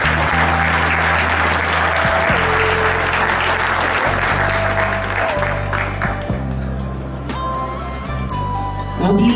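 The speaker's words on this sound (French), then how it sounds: "Et on peut les applaudir bien fort." An audience at an agricultural support gathering in Auvergne claps loudly and continuously, a dense wash of applause with a low steady hum and some voices mixed in.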